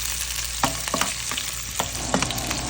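Chopped onion sautés in hot oil in a frying pan for ginisang cabbage, a steady close sizzle with several sharp scraping stirs of a utensil against the pan.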